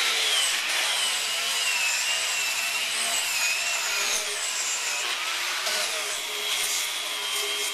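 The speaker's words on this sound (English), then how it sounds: "we've spent a few minutes now with the angle grinder" An angle grinder sanding wood for a picnic table, a steady high whirring grind that runs continuously and loud at close range, its pitch shifting slightly as pressure changes, with no talking.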